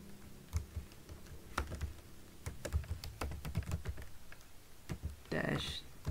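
Computer keyboard typing in quick, irregular bursts of clicks and taps, fairly close, ending with a brief rougher rustle.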